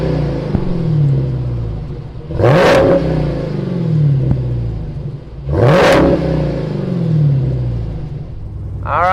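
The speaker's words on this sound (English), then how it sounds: "the beast is alive as we sit here in this 2018 Dodge Demon" A 2018 Dodge Demon's engine at idle, loud and close, with a deep steady rumble broken by two sharp throttle blips that swell into roaring revs and fall back to idle.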